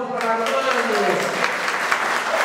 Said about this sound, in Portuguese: Uma salva de palmas para Armando.